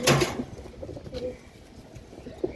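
Pet pigeons, including silver-coloured birds kept at a home loft, coo in short low bursts close by, with a louder call at the start and another near the end.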